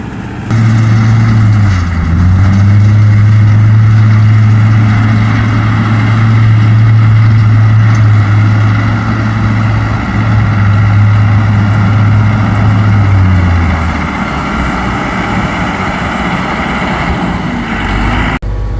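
An old heavy tractor engine runs loud and close during a pecan harvest, a steady low drone with a humming tone that shifts pitch and drops away near the end.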